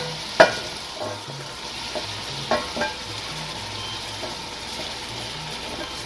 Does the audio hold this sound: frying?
yes